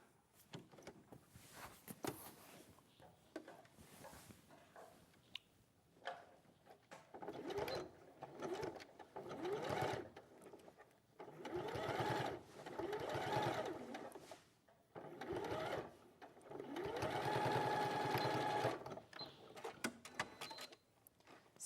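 Domestic sewing machine stitching a fabric diplodocus dinosaur toy made of dimple fabric, running in several bursts of steady whirring with short pauses between them, fairly close and moderately loud, with no talk over it.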